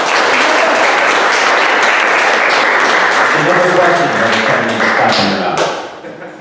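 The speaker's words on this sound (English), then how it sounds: "Yes, please clap." Applause from an audience fills the room, dense and steady, then tapers off near the end, with some voices mixed in.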